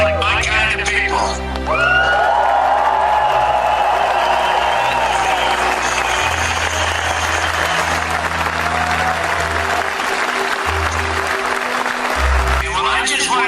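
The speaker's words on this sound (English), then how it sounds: "that sounds like a big crowd, and that sounds like my kind of people" A large crowd at a political rally applauds and cheers in a dense, sustained roar, loud throughout, with someone speaking over it through an amplified line.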